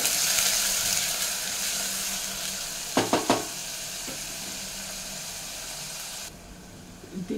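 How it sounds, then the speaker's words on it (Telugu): Chopped onion frying in a pan, a steady close sizzle with a few sharp clinks of stirring midway before the sizzle drops quieter. "ఆనియన్ కట్ చేసి పెట్టుకున్నాను కదా, అది వేసేసుకుంటాను ఇక్కడ"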